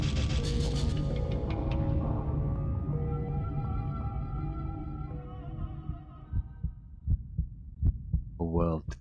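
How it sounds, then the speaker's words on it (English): Slow, muffled heartbeat pulses in the PS1 video game Racing Lagoon, set in a dreamlike underwater scene. The beats grow clearer toward the end beneath a sustained, fading synth drone. "A world devoid of sound, where I could only hear my heartbeat."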